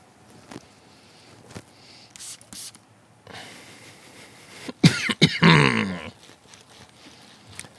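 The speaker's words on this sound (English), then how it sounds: "Even I'm wearing a mask and I coughed" One person coughs harshly a few times close up in a short cluster, after scattered small handling noises in a quiet room.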